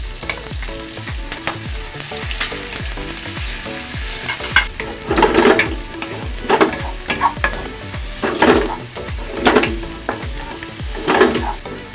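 Chili and onion go into a hot pan with garlic for Bicolano laing, sizzling steadily as a spoon scrapes and stirs in repeated strokes, the frying growing louder and more rhythmic midway through.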